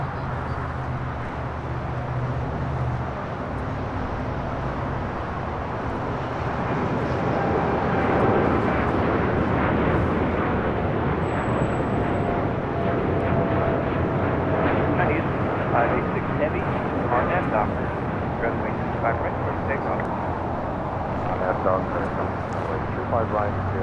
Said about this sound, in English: 788 taking off to Toronto on a 787-8 Dreamliner